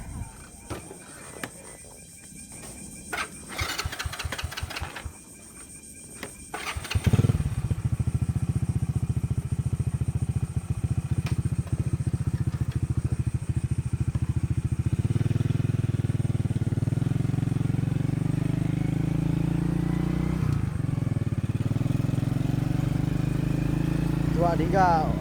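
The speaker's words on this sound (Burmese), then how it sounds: "ဆိုင်ကယ်လေးကိုချက်တယ်" An automatic motorcycle is started after some clattering and handling noises, then settles into a steady, close idle that runs continuously, with a person's voice heard briefly early on.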